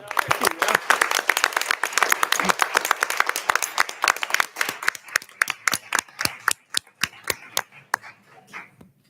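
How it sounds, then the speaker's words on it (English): An audience at a school board meeting claps, starting as dense overlapping applause and thinning into a few slow, loud, separate claps before it stops, with faint voices underneath. "should we give these guys a round of applause"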